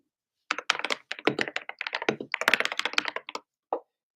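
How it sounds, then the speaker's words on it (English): Fast, uneven clatter of keys on a computer keyboard during a typing test, dense bursts of close taps with brief pauses and a final isolated keystroke. "Oh, it's a typing test."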